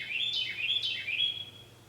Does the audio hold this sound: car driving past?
no